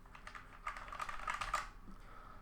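Quick run of key presses on a Logitech G413 mechanical keyboard, a cluster of close, crisp clicks and clacks over about a second, ending with a softer tap.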